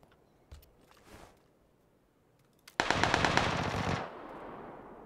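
Video game gunfire in PUBG: scattered single shots early on, then a loud rapid burst of automatic gunfire lasting over a second, fading into a lingering echo.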